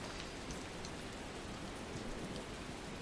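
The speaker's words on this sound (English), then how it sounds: "It's raining." Steady rain falling throughout a scene in the video game Tales of Berseria, a dense, even hiss of drops on surfaces with no break, at moderate level and no voices.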